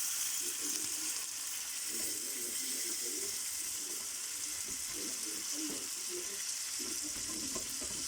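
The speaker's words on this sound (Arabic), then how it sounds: "أنا الفراخ بشويها على الجريل" Chicken sizzles on a grill with a dense, continuous hiss of frying and a low, irregular bubbling underneath, steady and fairly close throughout.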